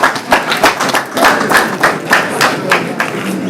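An audience at a wedding ceremony claps for a couple, a dense burst of close, rhythmic hand claps with thumps throughout, no voices on top.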